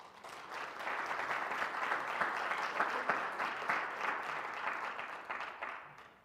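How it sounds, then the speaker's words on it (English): Congregation at a Sunday church service applauding steadily, a dense even clatter of many hands held for several seconds before tapering slightly at the end. "we can give them a round of applause even now"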